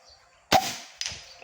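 A PCP air rifle, an upgraded toy-grade model, fires a single sharp shot at a 4x4 inch target, followed about half a second later by a second crisp crack, likely the pellet striking it; both are close and loud against near silence.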